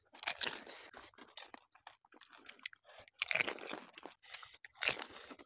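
Someone eats spicy pani puri with green chilli up close, giving loud, wet crunching bites in uneven bursts followed by softer chewing between them.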